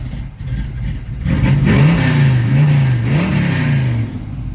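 A 1968 Chevrolet Camaro V8 revs loudly up close, rumbling at idle and then rising and falling in pitch through a couple of throttle blips.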